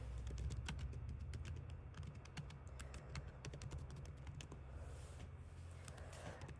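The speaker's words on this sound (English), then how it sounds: "let's see how much typing we're going to be doing here." Rapid, steady clatter of typing on a computer keyboard, dense keystrokes close to the microphone with a low background hum.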